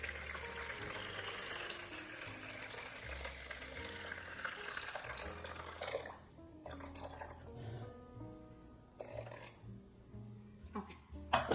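Water poured into a bowl as the first ingredient for a small batch of sourdough bread dough in a home kitchen, a steady splashing pour that stops midway, followed by quieter clinks and drips, with speech-like sounds present.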